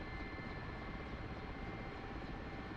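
Steady whine and throb of a Mi-8 helicopter's turbine engines and rotor in the DCS flight simulator, heard from the cockpit during a landing approach with the collective lowered and rotor RPM reduced, droning continuously and alone.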